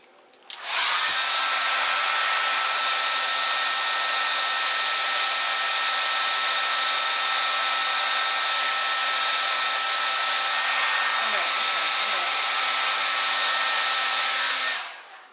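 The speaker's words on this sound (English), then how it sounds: "And blow dry it to make sure it stays down." A hair dryer blow drying a wig runs steadily and loudly for about fourteen seconds as a constant whooshing drone, switching on and off cleanly.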